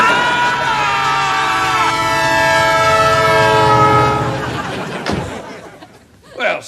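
A train sounds a long, loud, sustained multi-tone horn while passing near a crossing, then fades out among scattered thumps and brief voices.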